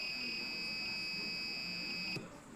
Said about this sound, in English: Let's hear the bells of each team.